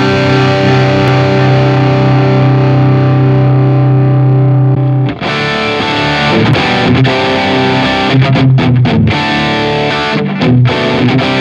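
Electric guitar played through a Matribox 2 multi-effects unit with no impulse response loaded, giving a loud, heavily distorted tone: a long sustained chord ringing out, then choppy muted riffing with abrupt stops.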